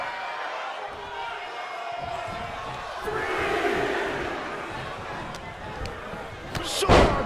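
Arena crowd noise at a wrestling match, a steady roar of fans that swells around the middle and ends with a sharp burst, with commentary running over it.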